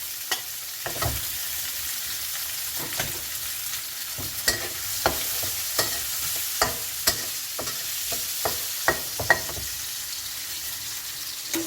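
Mixed vegetables with fish balls and glass noodles stir-fry in a pan. A steady sizzle runs throughout, with irregular sharp clicks and scrapes of the spatula, and no talking.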